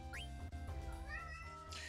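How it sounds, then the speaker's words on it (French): A cat meows in the video game Final Fantasy IX, a short close call over a steady bed of game music and ambience, with faint rising tones drifting through the background. "Oui, le chat, bien."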